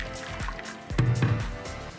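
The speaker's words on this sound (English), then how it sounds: "The eggs have been boiling for a while now, so we're going to drain the water off them" Boiling water from a pot of boiled eggs pours off in splashing, gurgling bursts, with a louder gush midway, close and fairly quiet.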